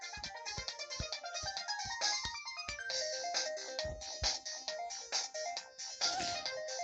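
A Samsung phone plays a MIDI ringtone, a bright synthesized melody of quick, stacked notes that runs continuously at moderate volume, with no talking.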